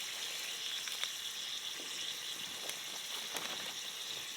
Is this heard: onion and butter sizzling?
yes